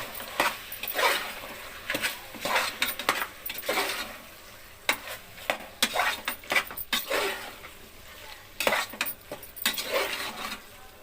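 Biryani masala with chili powder sizzles in a pan as a utensil stirs it again and again, giving a continuous scraping and frying texture with rhythmic strokes.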